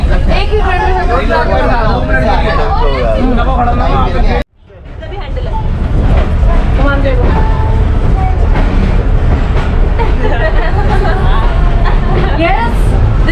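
Train at a Pakistan Railway station, with loud continuous rumble and rattling wagons amid a busy hubbub of voices and people talking nearby, broken by a brief sudden drop before the noise returns.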